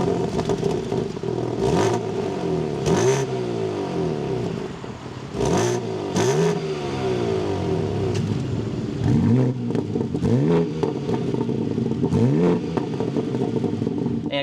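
A 2025 BMW M3 with a manual transmission starts up, then revs repeatedly. Loud, close engine blips sweep up and fall back in bursts of varied length over a steady idle, with no talking.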